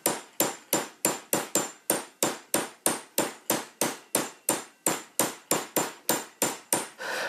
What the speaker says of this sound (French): je vais travailler sur cet arrondi avec un marteau pour le martelage, mise en forme